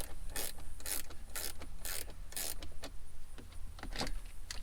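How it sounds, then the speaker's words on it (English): Ratcheting wrench clicking in quick repeated bursts while backing out 8mm battery terminal bolts on a Buick Lucerne, sharp close clicks in a steady rhythm with no talk. "I like to use a ratcheting wrench."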